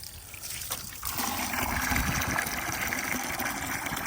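Water from a pumped bore well trickles and splashes steadily close by, growing a bit fuller after the first second, and no one speaks.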